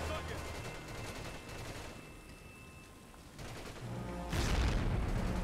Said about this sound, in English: I don't think the grenade went where I wanted it to go.